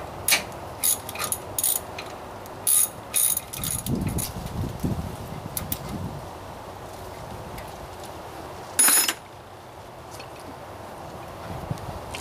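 Ratchet wrench working loose tight brake caliper bolts on a Dodge Ram pickup's rear disc brakes, heard as bursts of ratcheting clicks and metallic clatter with pauses, fairly close.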